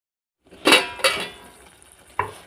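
A spoon scraping and knocking against a pan while egg curry is stirred, with three distinct metallic strokes spaced apart, close and fairly loud, with no talking.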